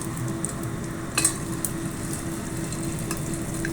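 Crackers frying in oil in a small pot give a steady, close sizzle and bubbling hiss with faint stirring clicks, no talking.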